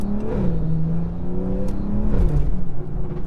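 A BMW F30 with a stage 2 tuned B58 engine driving, its loud engine drone rising then settling across a gear change, heard from inside the cabin.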